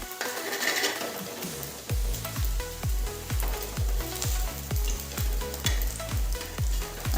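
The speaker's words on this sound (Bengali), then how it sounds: "এই তরকারিটাকে একটু গরম করে নিচ্ছি" Cold vegetable curry reheats in a pan, a loud steady sizzle punctuated by regular rhythmic scrapes of a spatula roughly twice a second, close by with no one speaking.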